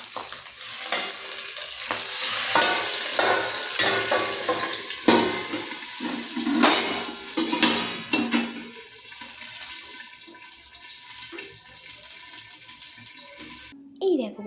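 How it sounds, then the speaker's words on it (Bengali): Oil sizzles and hisses steadily as pabda fish fry in a pan, with occasional clinks and scrapes of a utensil stirring the food. "মাছ ভাজা কমপ্লিট মানে মাছ ভাজা করে তুলে নিয়েছি"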